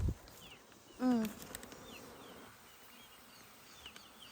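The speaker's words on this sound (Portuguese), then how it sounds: "Tá bastante abelha subindo" Bees rescued from a tree trunk buzz faintly and close by, with a brief louder buzzing pass near the start against quiet outdoor ambience.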